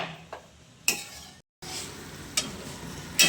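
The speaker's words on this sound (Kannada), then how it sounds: "ನೋಡಿ ಹಿಂಗೆ ಇನ್ನೂ ಬೇಯ್ತಾ ಇದೆ ನೋಡಿ ನೀರೆಲ್ಲ ಬಿಟ್ಕೊಂಡಿದೆ" Potato and spinach cook quietly in a covered pan, the spinach giving off water, with a faint sizzle, a few sharp scrape-and-clink stirring hits and a brief silent gap.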